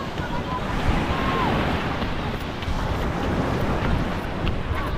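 Sea waves wash steadily onto the shore with a constant broadband roar and some wind buffeting on the microphone. No distinct individual breakers stand out.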